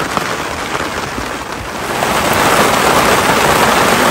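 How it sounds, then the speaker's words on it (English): Steady rain pours down at a Florida state park campsite, a dense, loud hiss that swells and grows heavier toward the end, with no voices. "Hey, it's raining."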